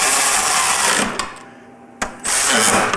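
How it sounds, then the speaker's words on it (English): A power tool drives screws into a motorcycle's lower fairing, whirring loud and close, pausing briefly, then whirring again. "Go ahead and tighten that one down, and then these."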